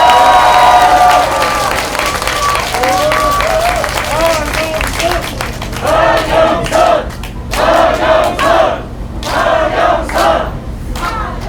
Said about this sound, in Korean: 그분들의 판단이 옳다고 생각하시면 감사 박수 좀 보내주시기 바랍니다